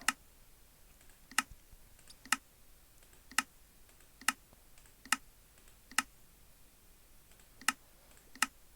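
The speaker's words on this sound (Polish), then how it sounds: "tylko że po prostu klawiatura hałasuje" Sharp, isolated keyboard key clacks, roughly one per second, in an otherwise quiet room.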